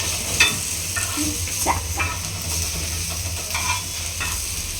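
Onions slow-frying in a pan, a steady close hiss of sizzling oil with gentle intermittent stirring scrapes over about five seconds, no talking.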